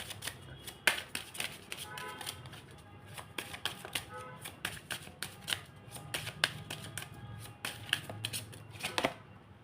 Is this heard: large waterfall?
no